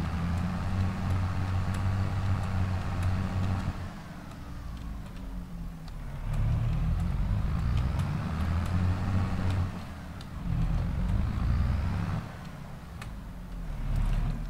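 A farm vehicle in Landwirtschafts-Simulator 22 (Farming Simulator 22) drives along with a steady, close engine drone that dips and swells several times, with no voices.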